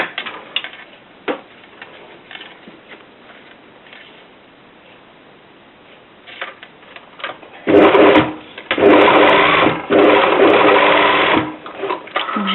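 Close sewing machine stitching a fabric bias strip from one intersection to the other, a loud steady run of about four seconds after quieter handling noises and soft fabric rustle.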